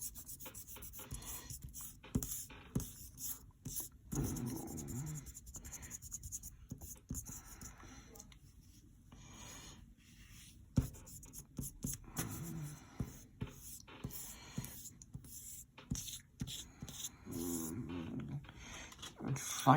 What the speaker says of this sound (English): I'm gonna write this down